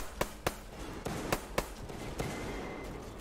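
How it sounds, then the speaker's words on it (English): Several sharp gunshot bangs in the video game Metro Exodus, spaced irregularly over a constant noisy background, loud and punchy, with no talking. "Gunshots over there, but I wanna go there."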